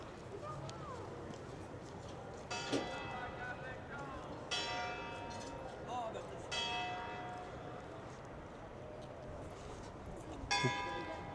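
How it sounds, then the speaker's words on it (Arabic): Bells of Palermo Cathedral, heard from up on the cathedral, ring out in four separate, resonant strikes spaced several seconds apart, somewhat distant against steady outdoor ambience with no talking. "جرس الكنيسة دا يدق"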